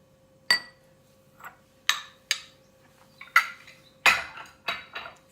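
Carrots go into a bowl of macaroni salad with a string of sharp clinks and taps as a utensil knocks the dish, about eight distinct hits spaced irregularly, close and fairly loud, with no talking.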